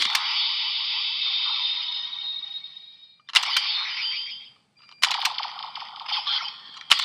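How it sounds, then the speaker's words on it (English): Electronic sound effects from a black box super disc toy as it spins: a long warbling tone, then a shorter burst and a third longer burst after brief pauses. The effects are fairly close and clear. "It just turns like that, makes noise."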